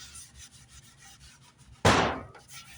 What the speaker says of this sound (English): I'm gonna take a wet cloth here, and I'm gonna give it a little bit of a bath